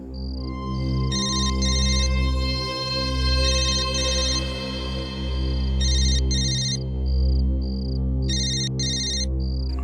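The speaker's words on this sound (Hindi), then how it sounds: "फोन बज रहा है तेरा" A mobile phone ringtone plays repeatedly in bursts of a bright electronic melody over a steady low hum, ringing unanswered for several seconds.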